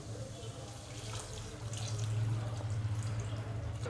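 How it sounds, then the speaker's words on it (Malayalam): Three cups of water run steadily into a pot for ragi soup, a close, continuous faucet-like pour that grows slightly fuller toward the end, with no voices. "ഇനി ഇതിലോട്ട് 3 കപ്പ് വെള്ളം ഒഴിച്ച് കൊടുക്കാം"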